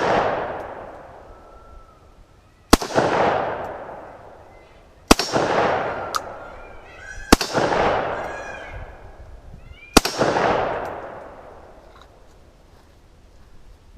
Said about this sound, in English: this is my last 5 rounds. Let's go ahead, do some center mass shots